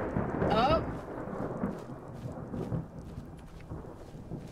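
Thunder from a lightning strike in Skyrim rolls out as a low rumble with a sharp crack near the start, then fades into a faint, rain-like hiss.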